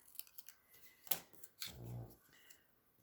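Scissors snip designer series paper at an angle for a handmade card, giving a few quiet, sharp cuts followed by a short rustle of paper.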